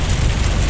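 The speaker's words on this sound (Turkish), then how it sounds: "Doluyla karışık yağıyor." Hail mixed with rain falling steadily, heard from inside a truck caught in a sudden storm, a dense, continuous patter with a low rumble underneath and no talk.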